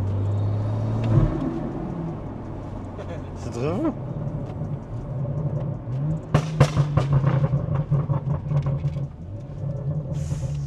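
A BMW M140i with an N55 engine gives off a low, steady rumble with short rising bursts, heard close and partly under people talking.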